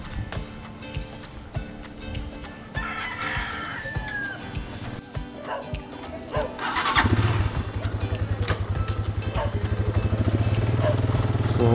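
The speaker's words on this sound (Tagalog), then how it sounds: "Ito yung motor natin." A motorcycle engine starts up about two-thirds of the way through and then settles into a steady, loud idle close by, with rooster crowing and background noise in the first part.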